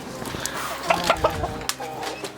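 Chickens from a mixed backyard flock cluck inside their coop, with a short run of close, distinct clucks in the middle over a steady hum of movement; no one speaks.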